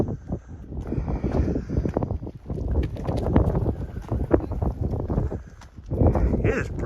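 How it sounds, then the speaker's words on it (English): Gusty wind buffeting the microphone outdoors on a breezy Thanksgiving Day walk, a loud rumbling roar that swells and drops in uneven bursts, close and dominant, with some faint background sounds mixed in. "It is breezy up here."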